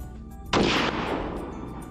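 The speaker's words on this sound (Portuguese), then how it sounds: "O capitão dispara o fuzil a cerca de 30 metros." A single rifle shot cracks out loud and sudden from about 30 meters at a bus, its sharp blast decaying into a short echoing rumble.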